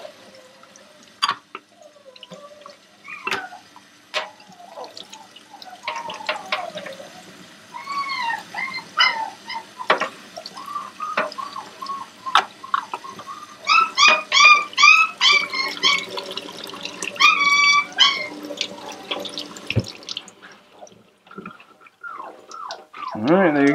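A six-week-old Aussiedoodle puppy being bathed under running water, with steady trickling and dripping and repeated high yips and whimpers from the puppy, close and fairly loud.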